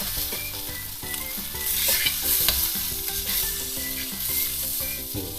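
Snakehead fish stir-fried with eggplant in a pan, a loud continuous sizzle with repeated scraping and stirring clatter of the spatula throughout, no voices.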